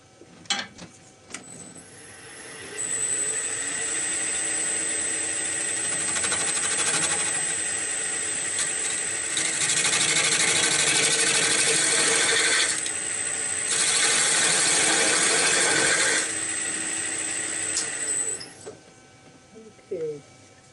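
A woodworking tool cuts a soft maple baseball bat blank on an eccentric bat-shaping rig. A loud, steady rasping whine carries on for most of the clip, broken by two short pauses.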